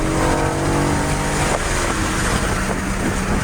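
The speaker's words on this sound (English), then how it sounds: "Yeah, it's popping on downshift." An exotic sports car's exhaust pops and crackles on a downshift, layered over a loud, continuous, close engine roar that holds steady throughout.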